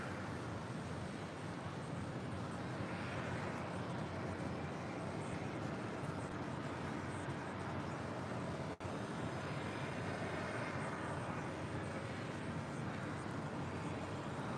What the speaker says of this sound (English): Singapore Airlines Flight 37 heading back to Singapore, that A350.